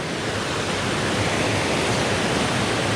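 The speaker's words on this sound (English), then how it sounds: "I'm smack in the middle at the moment of the river, the waterfall here" A waterfall on a jungle river in Lentang Forest Reserve pours with a dense, steady, close-up roar of rushing water, unbroken and without voices.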